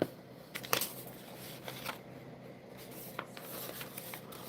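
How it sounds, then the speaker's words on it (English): A deck of playing cards being shuffled together makes close, soft rustling and flicking sounds with a few sharper riffle bursts, fairly quiet and alone. "And then we'll shuffle them into each other."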